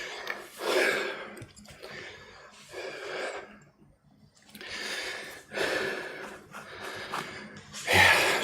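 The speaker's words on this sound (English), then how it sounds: "I don't know if you heard the breathing" Heavy, labored breathing from a person worn out while tinting the windows of a 2017 Toyota Camry, with repeated loud, close breaths in a steady rhythm and a brief pause midway.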